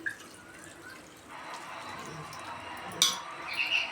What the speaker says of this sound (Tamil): நான் ஒரு கப்பு பால் காய்ச்சி வச்சுருந்த பாலை நான் ஊற்றுறேன்